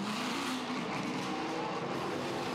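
A steady roar of Blancpain Endurance Series race car engines at a distance as the cars are released onto the Silverstone circuit, broad and continuous, with a hint of tire noise.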